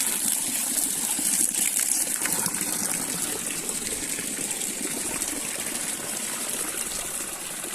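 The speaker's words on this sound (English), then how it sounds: "Beautiful, nice ice cold water. Straight from the mountains." Ice-cold mountain water gushes steadily from an outdoor fountain, a loud, close, continuous splashing stream with no pauses.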